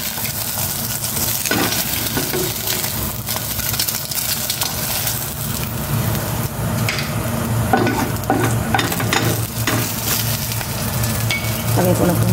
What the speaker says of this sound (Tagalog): Nagprito pala ako ng isang egg.